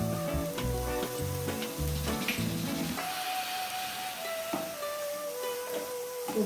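Beetroot rice sautés with salt in a pan: a steady, close sizzle and hiss with scraping strokes as the mixture is stirred, and no talking.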